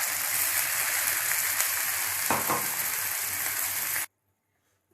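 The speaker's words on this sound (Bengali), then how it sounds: "মশলা ভাজা ভাজা হয়ে গেছে, এতে আমি একটু জল অ্যাড করব।" Water hits fried spice masala in a pan for a singi fish curry, raising a loud, dense, steady sizzle that cuts off abruptly near the end, with no talk.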